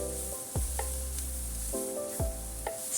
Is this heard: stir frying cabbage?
yes